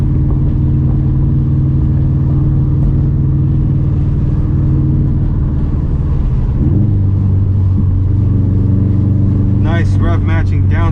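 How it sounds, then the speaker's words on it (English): A turbocharged Subaru WRX STI in city driving, its engine droning steadily and then shifting pitch midway as it rev-matches a downshift, with people talking inside the car. "Nice rev matching downshift."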